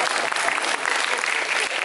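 An audience at a talk on renewable energy and climate claps steadily, a dense sustained patter of many hands throughout.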